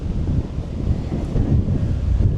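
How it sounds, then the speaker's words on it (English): Strong wind blows across an outdoor resort pool in Riviera Beach, Florida, a continuous loud rumbling buffet on the microphone with no talking. "definitely very windy here at the resort"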